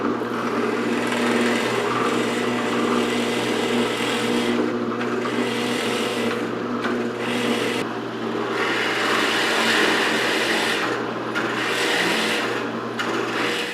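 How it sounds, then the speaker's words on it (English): A drill press with a 5/8 inch Forstner bit whirs steadily while boring shelf pin holes in wood, a continuous grinding rasp with brief dips as each hole is finished. "I put a 5/8 inch Forstner bit in my drill press"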